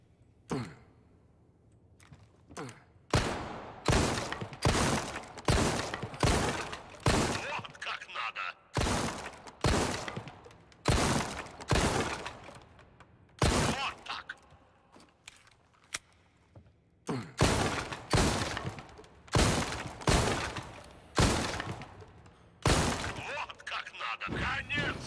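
Gunfire in Resident Evil 4 Remake: loud, sharp shots fired in quick, steady runs, broken by short pauses and a few quieter gaps, with faint voices underneath.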